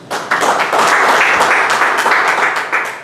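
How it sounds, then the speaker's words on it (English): A round of applause at a Toastmasters club meeting: scattered claps start up, then swell into steady, loud clapping from a room of people that carries on to the end. "Give a round of applause."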